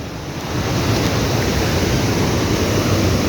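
Water waves rush continuously close by, a dense, steady roar with no voices.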